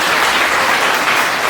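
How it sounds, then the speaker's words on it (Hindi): Loud, dense applause from a school audience at an honours programme where bicycles were donated to top students, continuous clapping from start to end with no speech. "इनके लिए भी एक जोरदार ताली होना चाहिए"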